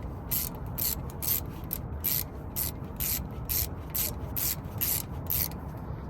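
Ratchet wrench snugging 12mm brake caliper bolts on a Honda Accord during a front brake job: a quick series of close, crisp clicking bursts in a steady rhythm, with no talking.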